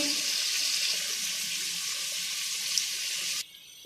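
Water poured into a pan of spices and biryani masala for chickpea and potato pulao, a steady close rushing hiss of pouring liquid that stops abruptly near the end, no voices.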